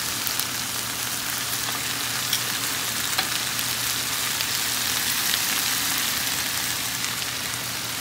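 Yogurt-marinated meat pieces frying in a pan, giving a steady, close, dense sizzle with faint pops throughout and no talking.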